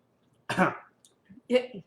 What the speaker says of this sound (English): While you're coughing.